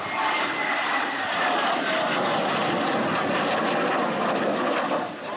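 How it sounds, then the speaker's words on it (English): A 1950s Hawker Hunter military jet takes off from its Essex base and roars steadily and loudly overhead, a dense, continuous engine wash that fades slightly at the end. "This is the last time the Hawker Hunter took off from its Essex base to fly to Shoreham."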